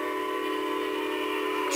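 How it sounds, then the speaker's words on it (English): A train video plays on a TV in a model railroad layout room, giving a steady, sustained steam whistle or horn tone with a faint background hum, fairly quiet and unbroken. "So I got some videos playing. So when I'm working, I can watch the train videos."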